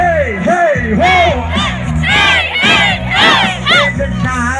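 A political grand rally crowd in Monkayo shouts "whoa" together in loud, repeated call-and-response bursts, voices rising and falling in rhythmic waves of chanting and cheering.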